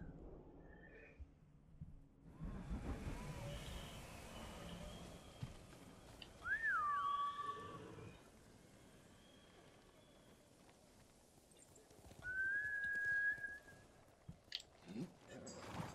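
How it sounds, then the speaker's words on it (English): A player whistles to summon a horse in the Ghost of Tsushima video game: two short, clear tonal whistles, the first falling and the second rising, ring out over a busy bed of ambient game sound. "you come when I whistle."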